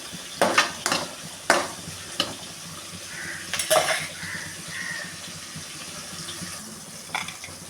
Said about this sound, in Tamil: இதை கொஞ்சம் அப்படியே வதக்கி விடுவோம்.